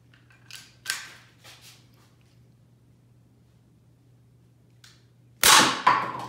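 Gunshots ring out while random items are shot: a couple of faint distant cracks early on, then two loud, sharp close reports near the end, separated by quiet.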